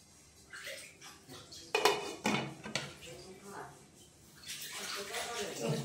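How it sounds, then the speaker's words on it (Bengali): A metal lid clatters onto a cooking pot set over a bowl of batter for a milk cake, with a few sharp clanks and some rattling, and someone talking around it. "এবার এর ওপরে দিয়ে দেবো ঢাকনা"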